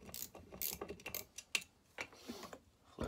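A 1/4-inch drive ratchet wrench clicks in short bursts as it cracks bolts loose on a McCulloch Super Pro 80 engine block, with quiet, close-up clicking and metallic ticks.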